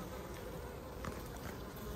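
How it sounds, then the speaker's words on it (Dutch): Honey bees buzz on a hive frame from a colony affected by varroa mites, a close, continuous droning hum with a few brief swells as individual bees pass near. "Ook hier zien we weer DBV-bijen lopen."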